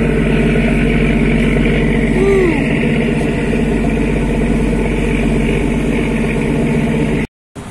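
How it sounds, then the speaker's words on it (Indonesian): A boat engine drones near its exhaust stack on a crossing toward Labuan Bajo, a loud, steady low rumble with constant tonal hum, briefly cut off by a gap at the end. "Nah, ini bagian dari cerobong knalpot."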